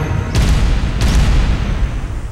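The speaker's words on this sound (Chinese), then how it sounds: "天上还有飞机轰炸呢" Aircraft bombing in a war drama brings two heavy explosions, one near the start and one about a second later, each a sharp blast over a continuous loud, low rumble.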